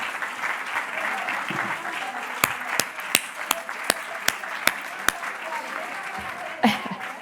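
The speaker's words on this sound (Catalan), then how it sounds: "volem fer un gran aplaudiment d'uns pels altres, de celebrar aquests 40 anys de DMD" Group at a 40th anniversary celebration of the association Dret a Morir Dignament applauds together, a soft wash of clapping punctuated by a series of sharp, evenly spaced single claps standing out near the front.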